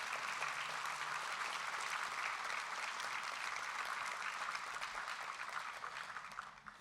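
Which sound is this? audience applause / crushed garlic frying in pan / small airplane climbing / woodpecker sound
audience applause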